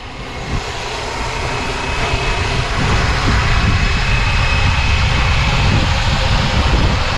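A Flywing BO 105 RC helicopter takes off and climbs in strong wind, its rotor and motor giving a loud, steady, rising whine and roar close by, with wind rumble underneath and no talk.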